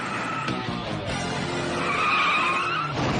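A cartoon car from the Shinchan series, the Nohara family's new car driven by a learner braking hard, screeches to a sudden stop with a continuous loud tire squeal and skid lasting a few seconds, with no speech.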